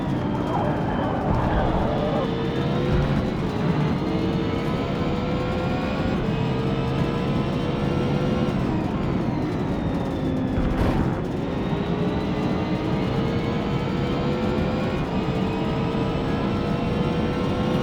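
GT3 race cars in Forza Motorsport, their engines droning loud and continuous, with tones rising and falling through gear changes and a Porsche running close ahead during an online multiplayer race.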